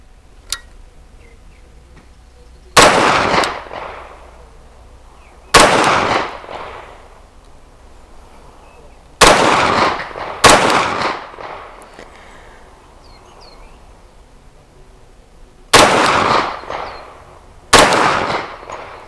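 Five loud, sharp gunshots from a Grand Power SP10A3 Stribog 10mm direct-blowback carbine fitted with a muzzle brake, fired singly at uneven intervals of a few seconds, each with a short ringing echo.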